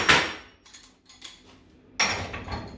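A size 46 wrench works on a Bull Vise steel bench vise, giving sharp metallic clanks and clinks in short bursts, close and moderately loud, with quieter scraping between them.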